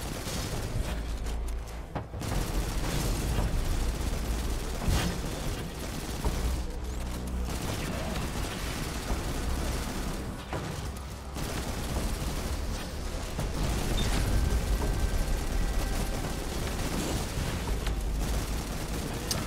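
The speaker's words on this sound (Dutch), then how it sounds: "Wat ratelt dit wapen ook heerlijk" A rattling automatic weapon fires in the video game Destiny 2, sustained and loud across the whole stretch with brief dips between bursts, set against dense game effects and music.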